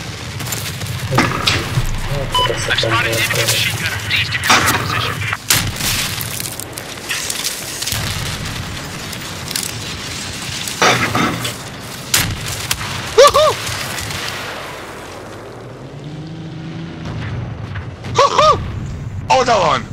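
Gunfire, grenade blasts and RPG explosions in a video game ring out in dense, repeated bursts and booms across the whole stretch, with several sharp nearby impacts, while players talk over the combat.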